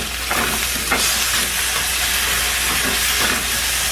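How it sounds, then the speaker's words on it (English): Garlic and onions sizzle steadily in a pan over medium heat for cabbage rolls, with a loud continuous frying hiss and occasional stirring scrapes. "I'm going to throw a teaspoon of garlic in there. And let's go ahead and start sauteing that up."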